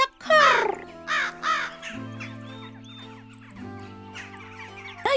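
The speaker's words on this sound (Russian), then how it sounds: "А она в ответ все кар да кар." A cartoon crow caws harshly several times in a children's animated film about animals, the calls rising over gentle background music and clucking-like cartoon effects.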